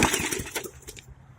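A Hyper Tough lawn mower engine is pulled to start with its air filter off, giving a short burst of irregular sputtering knocks that cut out after about a second.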